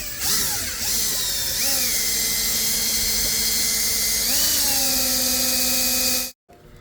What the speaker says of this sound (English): I'm just going to use a drill water pump right here.